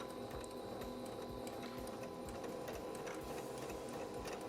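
A sewing machine stitching the pocket bag of a smocked dress, its fast even needle chatter running steadily and softly throughout without talk.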